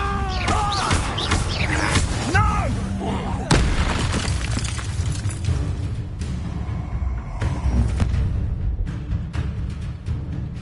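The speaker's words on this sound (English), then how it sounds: "Stupefy!" A Stupefy spell cast in a Harry Potter video game: loud magical blasts and booms with thudding impacts amid busy combat effects, strongest around the middle, with a voice calling out at the start.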